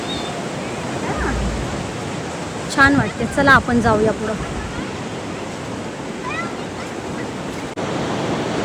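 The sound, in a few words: sea waves at Devbagh Beach, Malvan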